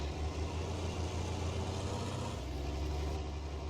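A tractor engine idles steadily in Farming Simulator 19, a low continuous rumble held at even loudness for a few seconds with no talk over it.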